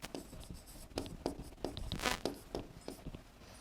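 Chalk taps and scrapes on a classroom blackboard in quick, irregular strokes as a teacher writes, close and fairly quiet, with no speech.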